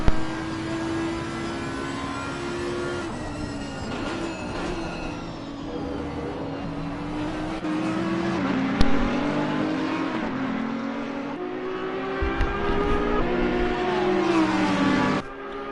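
GT3 race cars, an Audi and a Ferrari, battle at Oulton Park. Engines scream through gear changes with rising and falling pitch, and one car roars past up close partway through.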